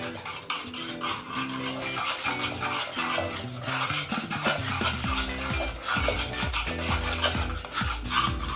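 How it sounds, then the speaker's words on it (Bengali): A spoon mixes Kashmiri chilli powder and salt in a bowl, making repeated close scraping and rubbing strokes against the dish in a steady rhythm, with no talking. "এবার এই সবকিছুকে একটা চামচ দিয়ে ভালো করে মিশিয়ে নেব।"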